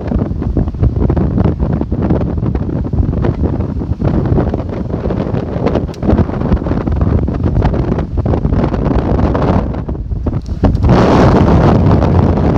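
A strong wind of 30 to 40 knots roars continuously over a boat anchored in a Cycladic bay, buffeting the microphone in a loud, dense rush that swells slightly toward the end.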